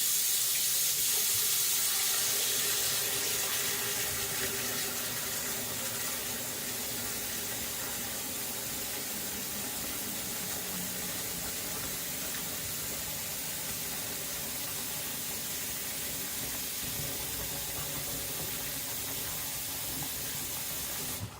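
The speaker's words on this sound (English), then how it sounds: "I'm just gonna fill this up with water." Tap water runs steadily into a container that will soak a Naniwa Professional 400 sharpening stone, a loud, continuous rushing hiss that stays close and unbroken throughout with no speech.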